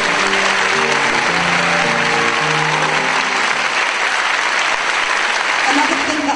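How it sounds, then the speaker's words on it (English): Audience applause for a young piano accompanist at a school inter-house music competition, steady clapping filling the hall over a sustained musical chord, loud and continuous throughout. "can we have a special round of applause, actually,"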